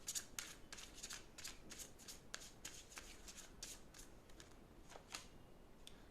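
Tarot cards are shuffled quickly and drawn, giving a rapid, even series of crisp riffling snaps, close and faint, with no talking over them.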